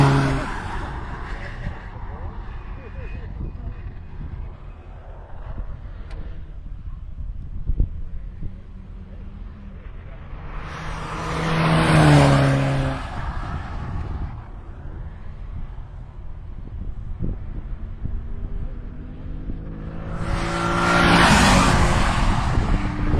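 Cars including a Chevrolet HHR lapping a road-racing circuit, engines droning steadily with two louder passes swelling up nearby, with a voice commentating over the engine noise.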